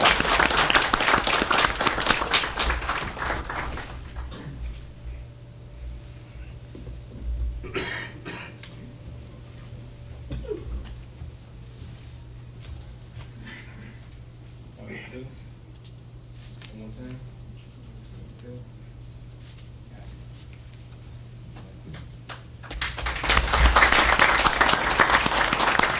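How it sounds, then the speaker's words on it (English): Audience applause at a regular board meeting, loud at the start, fading under quieter room noise and a steady hum through the middle, then swelling again with strong clapping at the end. "so give him a round of applause."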